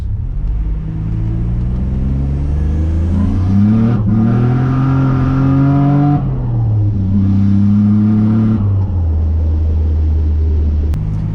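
A Nissan Navara with a boosted VG30 engine pulls hard through second gear, its loud, close engine note climbing in pitch, easing through a shift, then climbing again before it settles.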